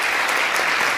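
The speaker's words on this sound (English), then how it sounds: "certainly a round of applause for Jeff," A brief burst of dense, steady applause from a breakfast forum audience after a bull versus bear debate panel, close and uniform.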